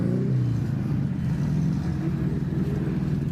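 A racing car engine drones loud and close at a Donington race meeting, a deep throaty rumble that holds steady with slight shifts in pitch.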